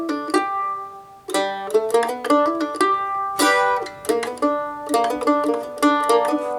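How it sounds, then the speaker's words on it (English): A mandolin plays the classic bluegrass G run slowly in G, clear plucked single notes ringing one after another with short pauses between phrases, bright and close, with no voices. "This is kind of the classic bluegrassy G run."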